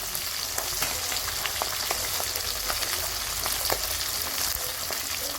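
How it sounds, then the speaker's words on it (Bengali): Food fries in a pan over a wood fire, making a constant close sizzle scattered with small sharp pops and crackles, with no voices. "কাঠ দিয়ে রান্না করছি"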